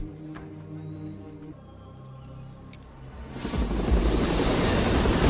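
Helicopter rotors in an action film scene swell from a low distant rumble into a loud, broad roaring wash that fills the last couple of seconds, with no talk over it.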